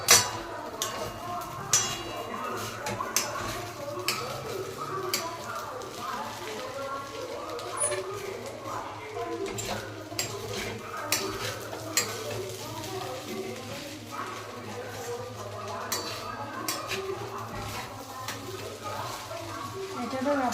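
Sabudana khichdi is stirred with peanut flour in a pan, giving a steady low scraping and soft ticking of the spoon throughout, with a faint sizzle beneath and a voice talking over it.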